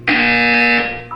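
A loud, steady buzzer blares from the Portal 2 game as one sustained electronic tone for about a second, then tapers off with a brief flicker at the end. No one speaks over it.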